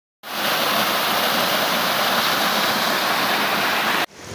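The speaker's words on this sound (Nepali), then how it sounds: "यहाँ चाहिँ मान्छेले बनाएको झरना छ कै रिसोर्टमा" An artificial waterfall at a resort in Nepal roars with a steady, dense rush of falling water that starts abruptly, stays loud and unchanging, then cuts off near the end.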